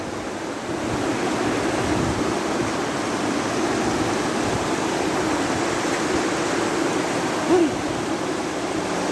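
Strong rushing floodwater roars steadily as a loud, broad, unbroken wash of noise from near start to end, with a brief higher squeak near the end.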